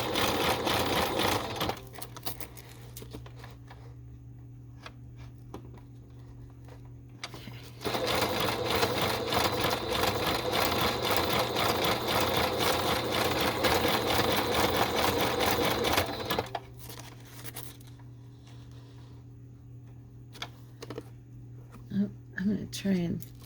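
A sewing machine stitching fabric scraps whirs steadily in bursts, with one long run in the middle and shorter runs before and after, while a person talks over it.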